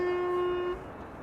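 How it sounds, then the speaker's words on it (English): Truck horn sounding a steady, sustained tone near Amsterdam Schiphol Airport, heard at a distance for under a second before cutting off into faint outdoor ambience. "the truck drivers are also honking, greeting us from afar"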